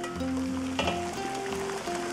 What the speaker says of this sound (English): Some good nice good rapid boil going.